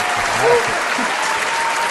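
An audience at a Spanish-language interview claps in a brief burst of applause, dense and fairly loud, while a voice talks over it.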